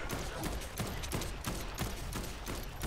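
Automatic gunfire in the zombie video game Dead Island 2, a dense continuous rattle of shots at moderate level throughout with no break.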